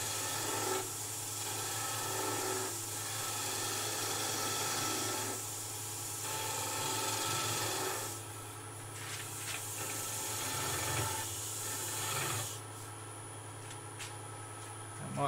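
Skew chisel cutting a wooden goblet on a lathe, a steady rasping scrape in repeated strokes of a few seconds each over the lathe's continuous hum.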